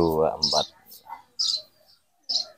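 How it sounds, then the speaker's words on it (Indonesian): A young house sparrow, kept as a pet, gives a few short, high chirps close by, right after a brief voice. "saya lagi ada satu burung yang lepas ya teman-teman yaitu anakan burung gereja yang kita pelihara"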